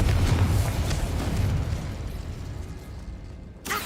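A Confringo explosive spell blast in the game Hogwarts Legacy rolls out as a loud, rumbling boom that fades gradually, then ends in a brief crackling burst.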